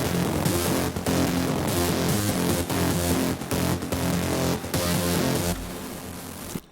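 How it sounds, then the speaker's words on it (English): A soloed synth bass arpeggio from a remake runs in a fast, steady, repeating pattern, loud and continuous with no voices. "there was a fast moving arpeggio in the background"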